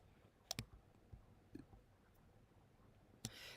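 A computer mouse gives a few faint, crisp clicks, one quick double click and then single clicks spread over a few seconds against quiet room noise, with no talk.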